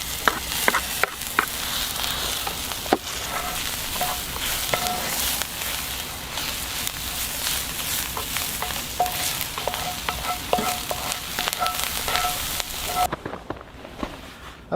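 Garlic sizzles in a skillet with a steady, close crackling hiss and occasional utensil clicks, lasting about thirteen seconds before cutting off to near quiet.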